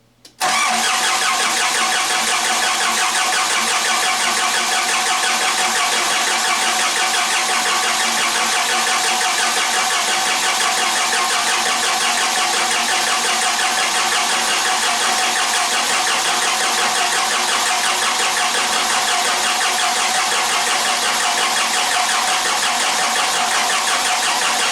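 A 4BT diesel engine in a Jeep, suffering hard cold starts, runs loud and close for the whole stretch with a steady, rough mechanical roar.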